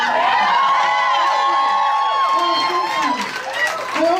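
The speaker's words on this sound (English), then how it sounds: "I always appreciate the claps and the woos" Comedy club audience bursting into clapping and whoops for a stand-up comic, a loud short swell of cheers and applause that fades within seconds.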